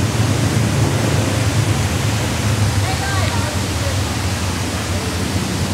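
The iconic waterfall at a cold mountain spot roars as a dense, steady broadband rush, loud and constant throughout, with faint voices barely audible beneath it.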